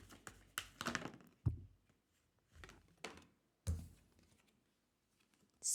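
Irregular papery riffling and soft slaps of tarot cards being shuffled, in uneven bursts with brief pauses, close by and moderately quiet.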